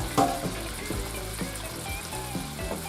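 Shrimp frying in a pan of pasta sauce, a steady close sizzle with faint bubbling and a few soft clinks, no voices over it.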